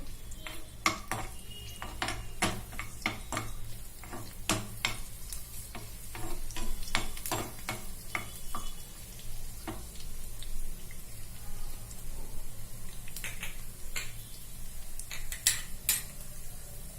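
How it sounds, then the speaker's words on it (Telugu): Dried red chillies and garlic cloves frying in hot oil in a pan for dal, with a steady sizzle and frequent clinks and scrapes of a metal spoon against the pan throughout, no talking. "ఎండుమిరపకాయలు వేగుతున్నాయి కదా"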